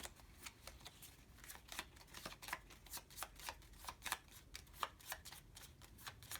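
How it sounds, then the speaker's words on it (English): A deck of playing cards shuffled during a tabletop game playtest, a quick series of crisp riffling bursts and flicks repeating at close range, steady and moderately quiet with no talking. "so I'm going to shuffle these up."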